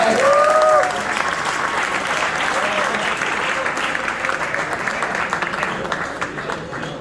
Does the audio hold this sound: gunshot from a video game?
no